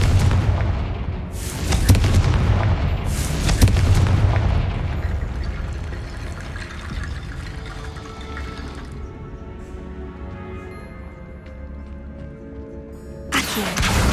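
Confringo fire spells in Hogwarts Legacy bursting in a few loud booming explosions early on, followed by a fading crackling rumble and another sharp blast at the end, with no talk.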